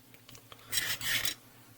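A hobby knife blade scraping plastic while trimming a part of a 1/72 Airfix Folland Gnat model kit: two short, close, rasping strokes after a few faint ticks, otherwise quiet.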